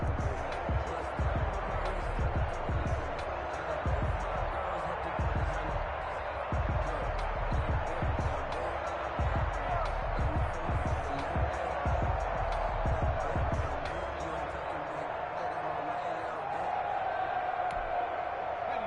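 Home crowd cheers continuously in an American football video game, a dense roar punctuated by rhythmic thuds and swells, with announcer commentary running over it.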